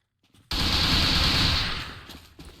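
Sustained carbine gunfire in the tactical shooter A.V.A, a dense loud burst that begins abruptly after a brief quiet moment, then tapers slightly while rattling on through the end, with no voices over it.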